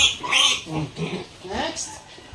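Pigs in a fattening pen on a small farm give grunts and squeals, close and fairly loud, mixed with a person talking nearby.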